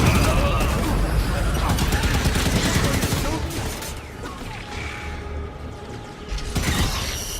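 A turret fires in rapid, rattling mechanical bursts in the Halo 5 video game, loud and dense at first, then easing off before a final flurry, with a voice speaking over the action.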